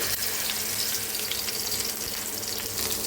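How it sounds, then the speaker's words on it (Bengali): Hilsa fish frying in mustard oil in a home kitchen pan, giving a steady, dense sizzle and crackle that holds at an even level from start to finish, close by, with no talking. "এর মধ্যে এখন আমি ইলিশ মাছটা ফেলে দিব"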